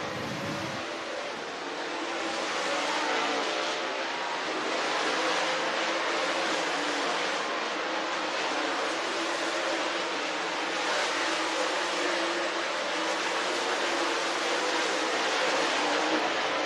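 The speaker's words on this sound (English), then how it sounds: "Dirt Draft Hot Lap session number 2 coming to life. Green flag is out." Dirt race cars running a hot lap session at North Georgia Speedway, a broad continuous engine roar rising and holding at a distance across the whole stretch, with no talk over it.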